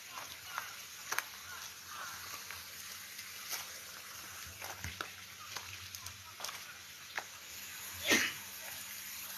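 A single sharp sneeze bursts out near the end, following a stretch of quiet room noise with faint scattered clicks.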